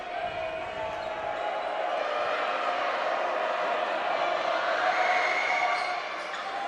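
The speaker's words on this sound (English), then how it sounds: "Loud Mason crowd in the background." A loud home crowd at a Mason boys basketball game fills a gym with a steady roar and cheering, while a commentator talks over it.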